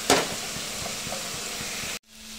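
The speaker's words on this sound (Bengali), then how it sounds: "আর এখানে একদিকে করলা ভাজাও হচ্ছে আমার।" Bitter gourd fries in a pan in a close, steady sizzle with a brief stirring clatter at the start, then it cuts off abruptly.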